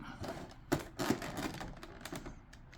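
Scissors or a blade snipping through stiff plastic blister packaging while a figure is unboxed, a few close, sharp crackling cuts and crinkles over a short stretch.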